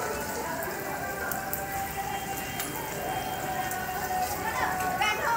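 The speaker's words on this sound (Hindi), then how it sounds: "बारिश हो रही है तेज" Heavy rain falls steadily outdoors in the first rain of the year: a dense, even hiss of drops with faint patter from nearby surfaces, continuous throughout, while a person talks over it.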